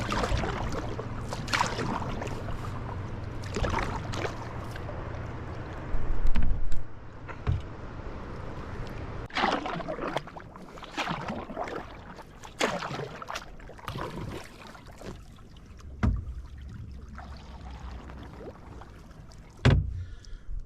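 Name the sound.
paddling a canoe across a lake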